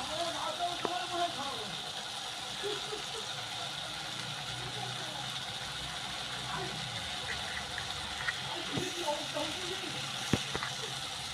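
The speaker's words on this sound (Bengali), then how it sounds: "এখানে আমি আদা রসুন বাটাটা দিয়ে আমি ভালো করে ভেজে নিচ্ছি।" Ginger garlic paste frying in hot oil in a pan, a steady soft hiss and sizzle running throughout with faint clinks, fairly quiet.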